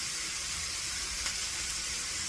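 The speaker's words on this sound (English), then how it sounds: "putting it in there and see if it sizzles" Plantain wedge test piece dropped into hot frying oil, giving a steady, close sizzle with soft crackling that holds evenly throughout with no talk.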